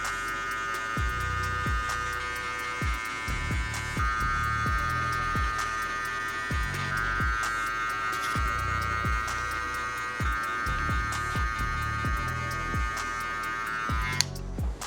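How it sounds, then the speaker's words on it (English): Electric hair clippers fitted with a number 1 guard, lever fully open, fading a child's hair: a steady close electric buzz-hum runs throughout, with a rhythmic low thumping beat underneath. "Next, we're gonna go ahead and throw on the number 1 guard with that lever all the way open."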